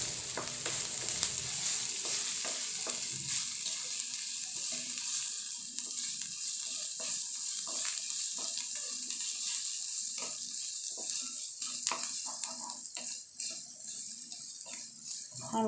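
Chicken patty filling with homemade spice mix frying gently in a pan, a soft steady sizzle with light crackles and intermittent stirring scrapes.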